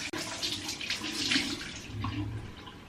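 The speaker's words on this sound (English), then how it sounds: "excuse the sound of the tap" A bathroom tap runs steadily for about three seconds, a continuous close hiss of water with slight splashing changes, heard alone without talk.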